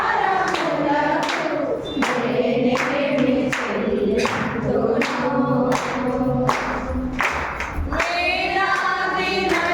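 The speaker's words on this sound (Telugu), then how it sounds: "చప్పట్లు కొడరా" Congregation clapping hands in steady rhythmic beats during a Sunday worship song, loud and close, with singing voices and music continuing underneath throughout.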